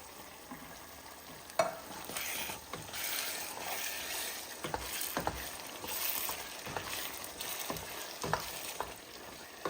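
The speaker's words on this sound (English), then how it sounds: "And we're just going to get those kind of crushed up in our chili." A spoon stirs fire-roasted diced tomatoes into a thick pot of five-alarm chili with beans, giving wet squelching scrapes and soft sizzling, close and fairly quiet, with occasional sharper clinks of the utensil against the pot.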